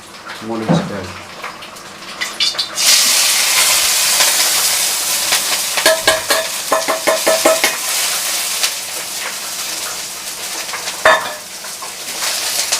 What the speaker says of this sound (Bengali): মুড়ি এখন দুইবার ভাজা হইতেছে